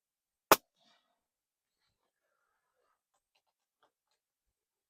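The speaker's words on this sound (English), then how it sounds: "That's the second shot." A single sharp crack from a Pinty Buster .177 air pistol firing at a target 40 yards out, loud and close, followed by near silence with only faint stray sounds.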